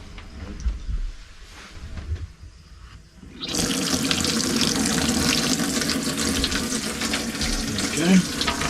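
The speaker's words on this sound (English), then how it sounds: "Let's do the sink tap as well." A kitchen sink tap is opened and water gushes steadily and loudly into the basin after a few seconds of quieter household background, running on continuously to the end.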